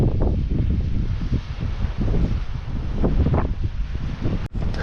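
Strong wind gusts buffet the microphone at a beach campsite in Innes National Park on the Yorke Peninsula, a continuous roaring rumble with uneven surges, loud and close, with no talking.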